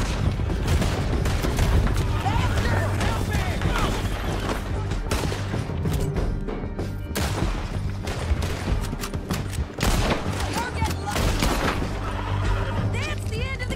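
Gunfire in Red Dead Redemption 2 during a fight against multiple targets: rapid, loud volleys of shots crack almost continuously, mixed with horse whinnies, crashes and voices in a dense, chaotic battle.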